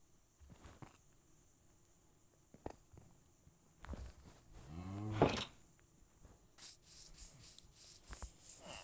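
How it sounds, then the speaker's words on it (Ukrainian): Cows moo in the video game Minecraft, one loud rising call up close among scattered soft footsteps and clicks, with faint patter afterward. "От ось цей згін з коровами."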